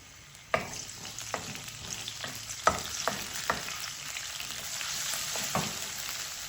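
Cumin seeds and ginger-garlic paste frying in oil give a steady, close sizzle with sharp clicks and taps of a spoon against the pan at irregular intervals, no voices.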